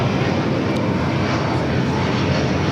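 An airliner taking off from runway 25 right at LAX, a loud, steady broadband jet roar filling the whole stretch with no break, heard alone without talk.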